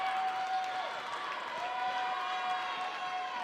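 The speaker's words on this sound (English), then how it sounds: "you can hear the Guertin crowd starting to make a lot of noise" Bishop Guertin fans at a high school volleyball match away at Bedford, New Hampshire, keep up a steady roar of crowd noise and scattered applause with a sustained whistle-like tone through most of it.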